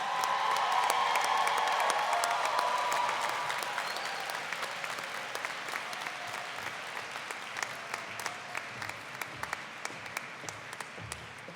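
Commencement crowd at a Drexel University School of Education graduation applauds the graduates: a dense, sustained wash of clapping that starts loud and gradually thins, with scattered sharper claps toward the end.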